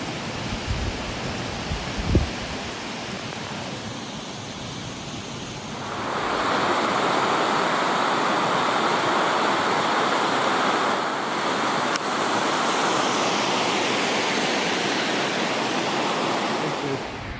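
Uldale Force, a waterfall in the UK, roars as a steady, loud broadband rush that swells in after a quieter start and fills the rest of the clip, with a brief knock early on.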